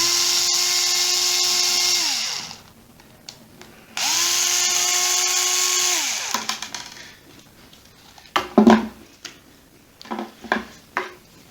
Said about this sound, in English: First you undo these 4 screws at the top